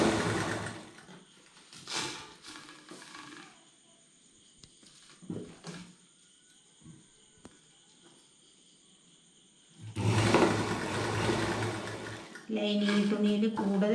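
A sewing machine stitches lining fabric onto a ready-made dress being altered, running in short bursts near the start and then a steady, close whir toward the end, with quiet gaps in between.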